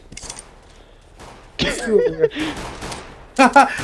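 Bursts of gunfire in the video game CS:GO, with sharp shots at the start and a cluster near the end, and people speaking loudly and excitedly in between.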